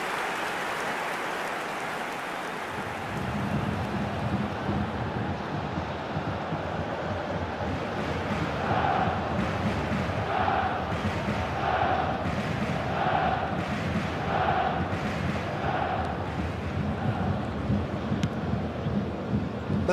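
Stadium crowd noise from eFootball 2024 during a Bayern Munich vs Lazio Champions League match: a steady, broad roar of a large crowd rising after a quiet start, with rhythmic swelling chants pulsing through the middle.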